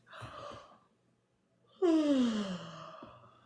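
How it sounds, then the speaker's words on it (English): A person takes a slow, deep breath during a guided meditation: a soft airy breath, a pause of near silence, then a long, loud, drawn inhale-sigh with a voiced edge, close to the microphone. "Let's just take some nice deep breaths. Inhaling slowly."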